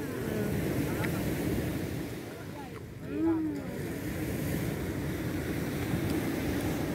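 Sea waves and wind at a beach campsite at night make a steady, broad roar close by, with a brief louder swell in the middle and people talking faintly over it.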